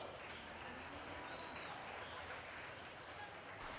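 Faint, distant applause from the audience at a livestock market steer show, a steady wash of clapping held at low level for the whole stretch.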